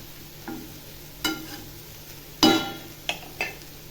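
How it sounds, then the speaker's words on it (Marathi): Cluster beans fry and get stirred in masala in a pan, with several soft sizzling scrapes and stirring strokes spaced out over a few seconds, close and fairly quiet with no talking. "मसाल्यामध्ये चांगली अशी फ्राय करते गवार"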